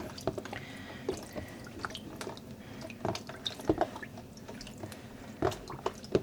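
Yarn pushed down and soaked in a water bath ready for dyeing, with quiet, close sloshes, drips and squishy splashes coming in irregular bursts and no talk.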